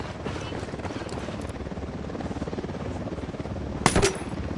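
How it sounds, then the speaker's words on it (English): In the Ghost Recon Wildlands video game, a helicopter sounds a continuous throbbing rotor chop that holds at a steady, fairly loud level throughout, and a short sharp crack or impact cuts in near the end. "Helicopter inbound."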